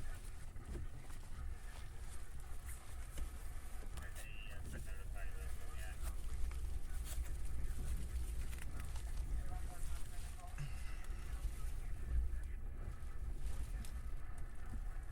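Strong storm wind buffets an outdoor microphone during a storm chase in Hamilton, Ohio, a steady broadband roar with low rumble and gusty swells throughout, and no voice is heard.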